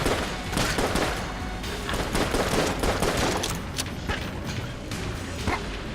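Rapid, dense gunfire from turrets spawned by the holster weapon in Enter the Gungeon, a continuous clatter of small shots with popping bursts, loud and unbroken throughout, with no talk over it.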